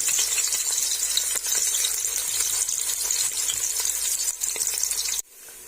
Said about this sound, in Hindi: ऑयल गर्म हो गया, प्याज ऐड कर देंगे।